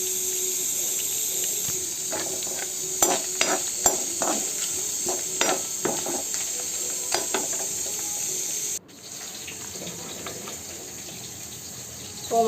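Ingredients sizzling steadily in a pan with coriander about to go in, broadband hiss broken by scattered stirring clicks and scrapes, then a sudden drop to a softer sizzle.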